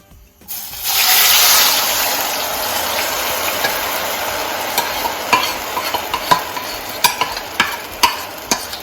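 Jackfruit halwa mixture being stirred in a pan, a sizzling wash as the liquid is poured in and then steady stirring with repeated spoon taps and scrapes against the pan, close and fairly loud; no voices.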